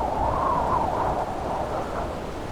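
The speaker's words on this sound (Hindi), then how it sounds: "तूफानी हवा से बारिश की बूंदें बड़ी तेजी से अंदर आने लगी।" Steady, dense wash of wind-driven rain, a continuous roaring hiss with no pauses and a low rumbling undertone throughout.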